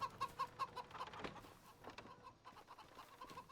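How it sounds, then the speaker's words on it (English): Baby chickens peep and cluck in a farmyard in the Farming Simulator 25 video game, a run of short repeated chirps at first followed by softer scattered clucking, quiet and close with no talk. "Oh look, little baby chickens."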